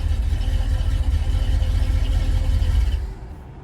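A carbureted engine that had just had its carb catch fire runs steadily with a low, rough rumble close by, then fades and cuts out near the end.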